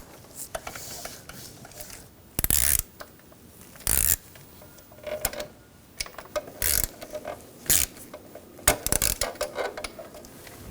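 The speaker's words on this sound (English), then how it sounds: "I can tighten those front bolts too" Ratchet tightening throttle body bolts on a 2009-2017 Volkswagen Tiguan 2.0L, heard as several short separate bursts of ratcheting clicks with quiet mechanical handling between them.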